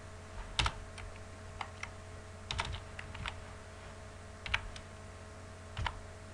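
JavaScript code being typed on a computer keyboard, with scattered bursts of sharp key clicks separated by pauses over a steady background hum, close and clear with no voices.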